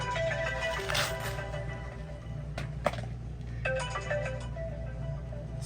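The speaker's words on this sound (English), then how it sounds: "phone always going off when we're doing this stuff, but never ends" A mobile phone ringtone plays faintly indoors in a reptile-keeping room, a repeating electronic melody with brief pauses, set against a steady low hum.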